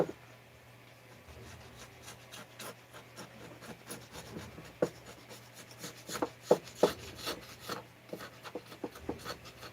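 Scraper rasping over the crankcase of a Husqvarna 390XP chainsaw: soft, close scraping strokes that grow more frequent and sharper toward the end, with faint background hum and no talking.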